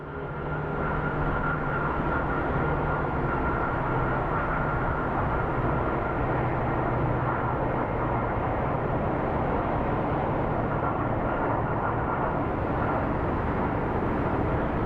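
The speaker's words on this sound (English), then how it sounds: "when the planes go over the bridge, you hear them and you're like, it sounds like a big plane" A loud, broad jet roar from an airplane fills the whole stretch, steady and rumbling as it passes close overhead near Phoenix Sky Harbor International Airport.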